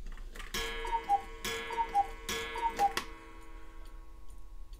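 A Black Forest Engstler 8-day cuckoo clock with a hand-carved linden wood case and weight-driven pendulum ticks steadily, with three crisp, resonant tick-tock beats under a second apart, then fades quietly.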